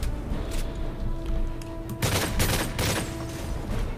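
Call of Duty Modern Warfare 3 campaign gunfire, with rapid bursts of automatic shots and sharp cracks clustered in a dense fusillade, louder and heavier in the second half.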